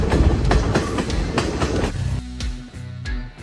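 A train running through the mountains of Sri Lanka, with loud, close rhythmic clickety-clack of wheels over rail joints and a steady rumbling roar, heard alone.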